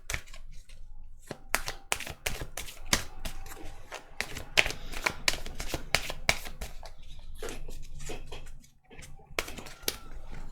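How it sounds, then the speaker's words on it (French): Oracle cards being shuffled and drawn by hand for a tarot-style reading, a dense run of crisp riffling flicks and slaps in quick bursts, close up, with a brief pause near the end and no speech. "On va tirer 3 cartes de l'oracle des miroirs et 3 cartes de l'oracle de la triade."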